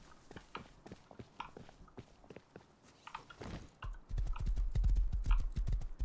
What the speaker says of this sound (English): There's a horse right here.